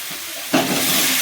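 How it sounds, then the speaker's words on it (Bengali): Potatoes drop into hot spiced oil in a Bengali kitchen, setting off a sudden loud sizzle halfway through that continues as a steady close hiss. "এখন আলু ভেজে নিই"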